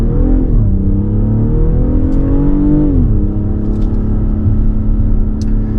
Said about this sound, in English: And now driving X3 M40i on regular tires on the twisty roads.